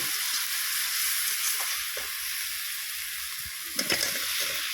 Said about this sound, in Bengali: কিছুক্ষণ মশলাটা কষিয়ে নিয়েছি আর এবারে আরেকটু জল দিলাম